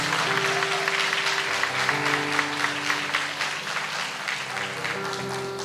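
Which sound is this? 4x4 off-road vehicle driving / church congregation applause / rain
church congregation applause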